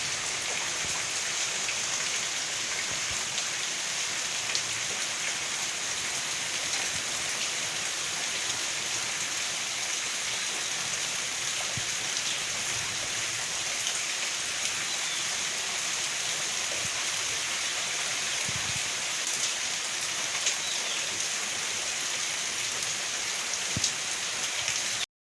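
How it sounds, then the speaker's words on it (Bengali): Monsoon rain falls in a steady, dense hiss for a long stretch, with scattered drops pattering on nearby surfaces and no voices. "কেমন বৃষ্টি হচ্ছে দেখো, পুরো বর্ষা শুরু হয়ে গেছে এবার"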